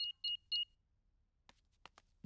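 Three short, bright electronic beeps from a cartoon house alarm being switched back on, evenly spaced, followed by a few faint clicks and taps.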